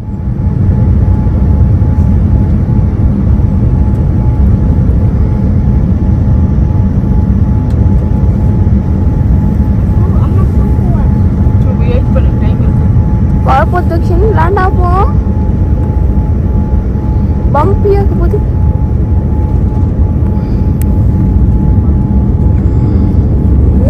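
Loud, steady roar of a passenger airliner's engines and airflow during landing with wing flaps raised, a constant broadband rumble throughout with brief voices or cabin sounds in the middle.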